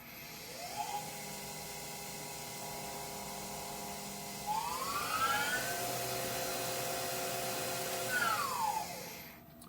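A Tormach CNC machine spindle whines up to speed at 4,000 RPM, sweeping its pitch up and down a few times over a steady, fairly quiet mechanical hum.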